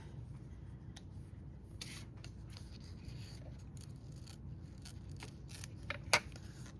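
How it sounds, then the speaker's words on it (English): Scissors cutting excess paper from a handmade gift card envelope, a series of quiet crisp snips in irregular rhythm, close and faint, with a sharper cut near the end. "you can use your scissors and you can cut off the"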